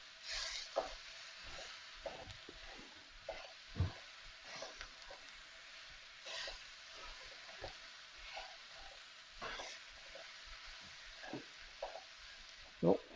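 Potatoes and tofu are stirred and tossed in a hot pan while they sizzle steadily, with irregular scraping and clattering strokes of a utensil at close range and no talking.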